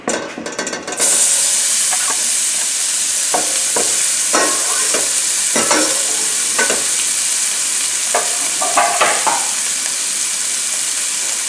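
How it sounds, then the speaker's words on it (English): Onions and garlic hit hot oil over a lowered flame, breaking into a loud, continuous sizzle with scattered stirring clicks and scrapes. "Putting in the onions and the garlic."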